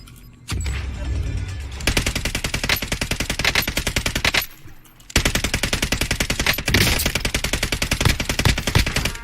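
Loud rapid-fire automatic gunfire from a new gun in Call of Duty Warzone, delivered in two long sustained bursts separated by a short pause, each shot crisp and evenly spaced.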